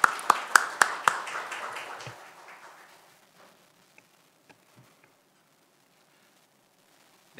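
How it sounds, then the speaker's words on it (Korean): Applause from a symposium audience welcoming a keynote speaker at a Korean judicial policy event: a few sharp, close claps open a dense burst that fades away within about three seconds, leaving near silence with faint scattered taps. "큰 박수로 환영 부탁드립니다."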